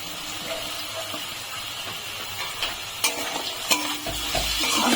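Capsicum and tomato added to softened carrot and potato sizzle in a frying pan, with a spatula stirring and scraping in a few sharp clicks over the steady close hiss.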